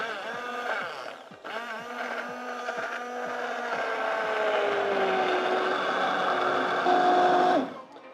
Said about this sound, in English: Now I'll get my trusty blitzer, wand, I'm not sure what you call them.